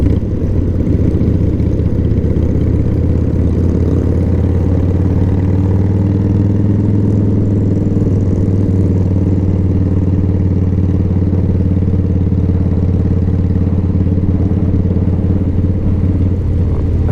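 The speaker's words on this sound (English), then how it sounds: "I'm actually just enjoying just cruising around here on the Fat Boy" A Harley-Davidson Fat Boy motorcycle cruises around Barber Motorsports Park race track, its engine a loud, steady low rumble that holds nearly constant throughout.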